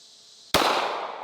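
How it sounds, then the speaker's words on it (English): A 9mm semi-automatic handgun fires a single 147-grain jacketed hollow point round: one sharp, loud, close crack after a quiet moment, trailing into a decaying echo. "we're going to start out with a 9mm semi-automatic handgun"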